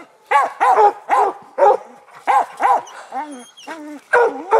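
Hunting dogs on a coon hunt barking close and loud, a rapid series of sharp barks and yips with some whining tones between them.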